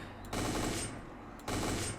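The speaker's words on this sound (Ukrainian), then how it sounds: "Апгрейджений калаш стріляє, мені прям подобається." Two bursts of rapid automatic fire from an upgraded AK rifle in a video game, close and punchy, separated by a short pause.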